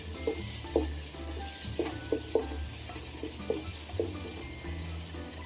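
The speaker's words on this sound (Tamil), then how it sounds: "சேர்த்துட்டு நல்லா வதக்கி விட்டுக்கலாம்." Tomatoes sautéing in a pan with oil while making white vegetable biryani, a soft steady sizzle broken by repeated spoon scrapes and stirs, close and gentle, with no talk.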